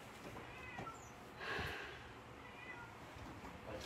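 Newly arrived cats, a group of mothers with kittens, meow softly at a distance. Several short, thin calls come and go over a low background hiss, with one louder cry near the middle.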